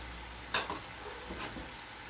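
Spoon stirring tomatoes, red chilli, crushed pepper, turmeric and salt in a pan for brinjal bharta, with a quiet steady sizzle and a few soft scraping strokes, one sharper clink near the start.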